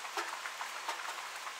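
Rain falls steadily on a homestead roof, a soft continuous patter with scattered louder drops, heard alone without talk.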